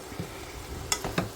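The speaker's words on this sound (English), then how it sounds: "I'm not finished stirring it up, guys." Turkey taco meat sizzles softly in a pan while being stirred, with a steady low fry broken by a couple of brief scraping clicks from the utensil.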